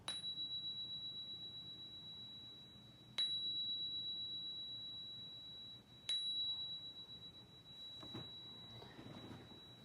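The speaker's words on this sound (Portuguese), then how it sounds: "Então eu uso esse sininho aqui, ó." A small bell rings three times at even intervals, each strike leaving a long, clear, pure ringing tone that slowly fades; quiet room, no talking.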